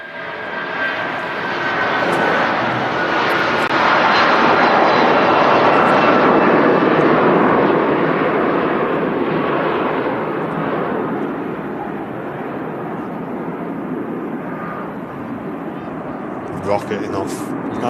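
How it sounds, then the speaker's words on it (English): A Jet2 Boeing 747 takes off from Manchester Airport, its engines building to a loud, sustained roar that peaks mid-clip and slowly recedes, with brief voices near the end. "Rocketing off, absolutely rockets off. It's on its way to Rhodes with Jet 2, of course."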